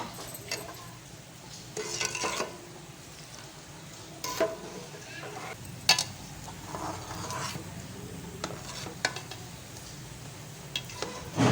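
A spoon stirs vermicelli with two cardamom pods in a hot pan, giving a steady sizzle broken by repeated scraping strokes and metallic clinks against the pan.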